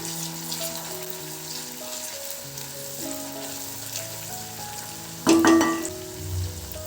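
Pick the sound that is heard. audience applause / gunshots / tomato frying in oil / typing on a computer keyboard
tomato frying in oil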